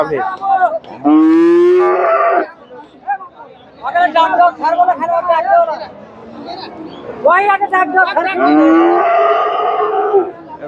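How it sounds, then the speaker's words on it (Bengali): A Friesian cow moos repeatedly at a busy cattle market, with long, loud calls in several bursts while people talk nearby throughout. "দর্শক এখানে একটা গাভী দেখতেছি যে গাভীটা এদের ভাইয়ের কাছে দেখতেছি"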